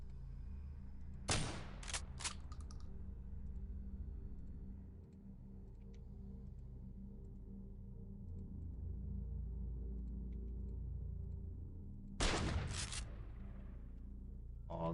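Shotgun blasts in the XCOM Files video game, two short bursts of sharp reports, one near the start and another near the end, over a low droning game ambience.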